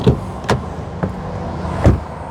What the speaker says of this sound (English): Let's listen to how the door sounds when they close